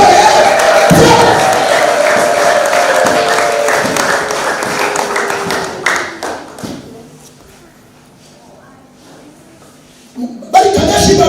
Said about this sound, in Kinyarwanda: Ariko mwayikomera amashyi menshi cyane.